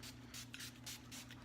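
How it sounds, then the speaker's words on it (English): Makeup setting spray hisses in several quick, short bursts in a steady rhythm, quiet and close, over a low constant background hum. "Okay, so now we're gonna use some setting spray."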